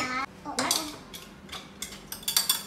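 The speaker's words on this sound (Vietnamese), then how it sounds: "Anh hai lấy cái muỗng nhỏ để quậy." A small spoon stirs lemonade in a glass, giving bright clinks and rapid tinkling taps against the rim and sides, the loudest burst of clatter coming near the end.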